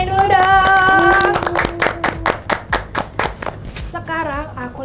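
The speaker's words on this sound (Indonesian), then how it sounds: "Tepuk tangannya dulu dong." Studio audience applause on a talk show set, starting under a sung or spoken voice, then a series of distinct clapping bursts before a voice resumes at the end.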